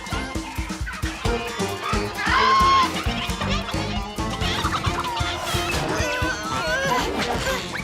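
Cartoon chickens squawk and cluck in quick, busy bursts over music and sound effects, with one sharp loud squawk in the middle and frantic action noise throughout.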